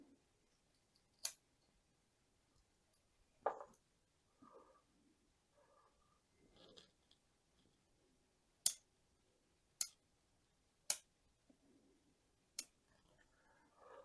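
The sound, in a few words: cutting a portulacaria afra bonsai stump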